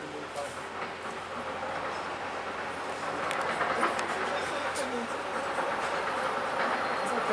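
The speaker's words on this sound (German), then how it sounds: "Das ist ein besonderer Zug." A special train rolls past, a broad rumbling roar with faint rail clatter that swells slightly midway and stays steady, heard from nearby outdoors.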